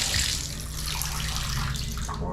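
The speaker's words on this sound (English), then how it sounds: "Let's turn it on. Yep, water comes out just" Water pours steadily from a hotel bathtub faucet, a continuous broadband rush with a low hum underneath, close and even throughout with no talking.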